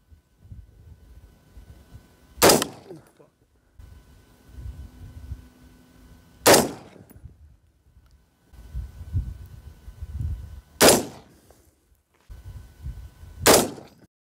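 Four sharp AR-10 rifle shots strike a ballistic plate, spaced a few seconds apart, each a sudden loud crack with a short decay, separated by low rumbling handling noise.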